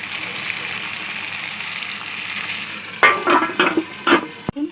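Potatoes frying in hot oil in a covered pan give a steady, quiet sizzle; near the end come several sharp clattering or stirring bursts, then a brief thud.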